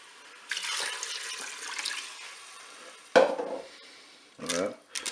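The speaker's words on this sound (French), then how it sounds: "Je vais pouvoir ajouter l'eau." Water splashes and pours into a Cookeo pressure cooker pot in short bursts. A louder slosh comes near the middle and a brief final pour follows. The sound is fairly close and moderately quiet.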